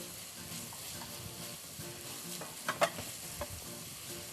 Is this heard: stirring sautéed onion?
yes